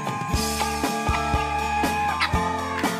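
Chickens and ducks kept together in a rural yard cluck and squawk noisily, with repeated overlapping calls, close and continuous and without speech.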